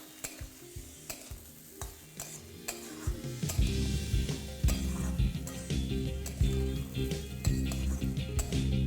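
Diced tomatoes are stirred into moong dal sizzling in a pan, with repeated spoon clicks and scrapes against the metal over a growing fry hiss, close and rhythmic, without speech.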